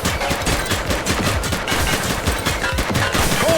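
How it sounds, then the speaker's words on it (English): Rapid gunfire from a shooter in The Precinct police video game, a dense, continuous fusillade of loud shots crackling without pause for several seconds. "She's shooting!"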